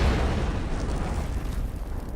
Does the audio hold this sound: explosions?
yes